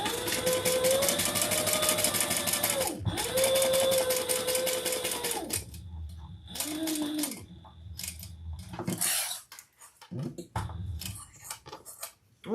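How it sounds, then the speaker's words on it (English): Sewing machine stitching fabric together, a close, steady mechanical hum in two long runs, then shorter stop-start bursts with clicks and handling sounds between them. "let's sew this together."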